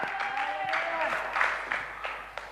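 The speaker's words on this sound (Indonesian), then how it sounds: "Sekali lagi berikan tepuk tangan yang paling meriah." A church congregation breaks into applause at a worship service, rippling claps rising and fading over about two seconds, with a faint voice and a sustained tone underneath.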